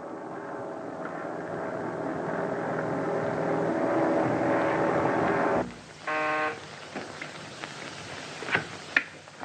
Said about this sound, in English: Captain Holmes calling from Marine plane en route